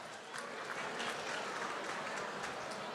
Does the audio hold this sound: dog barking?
no